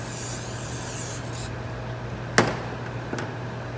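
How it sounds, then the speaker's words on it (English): A steady hiss of cooking spray fills most of the clip, followed by a couple of short clicks near the end. "Just lightly spray the tops."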